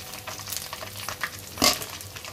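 Ginger garlic paste hitting browned onions in hot oil, a soft sizzle with scraping stirs and one sharper clatter of the spoon against the pan near the end, no talking.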